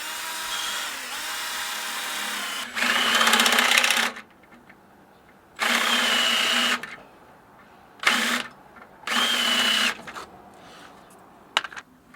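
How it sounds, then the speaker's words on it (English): A power drill bores into a seized shock absorber nut during a Land Rover Discovery suspension lift, running in four loud bursts of a few seconds each with quiet pauses between them. "I'm going to drill a hole in the nut and try and chisel it so it opens up"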